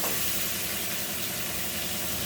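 Shrimp frying lightly in oil in a pan, a dense continuous close-up sizzle and crackle with no voices.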